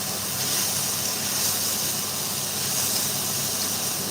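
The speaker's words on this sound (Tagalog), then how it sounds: "ginigisa ko yung yung mushroom, guys" Mushrooms sauté in a hot pan, giving a steady, fairly loud sizzling hiss that holds evenly for the whole four seconds with no voices.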